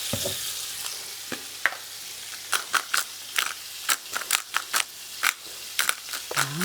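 Utensil stirring duck with salt and pepper in a sizzling frying pan, with a series of sharp scrapes and clacks over a steady hiss.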